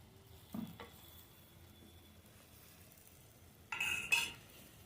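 A spoon stirs ground spice mix into greens cooking in a pot over a wood stove, a few soft scraping strokes and clinks against the vessel, quiet and spaced out.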